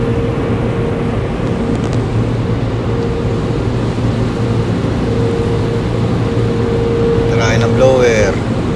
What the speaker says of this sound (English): Tryin' ang blower.